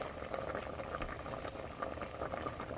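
Curry chicken simmers uncovered in a pot over medium heat, giving a steady, soft bubbling and popping that continues evenly throughout at close range.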